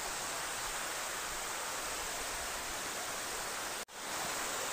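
Steady, full rushing roar of a waterfall beside a living root bridge in Meghalaya, loud and continuous with a single brief dropout near the end; no voices.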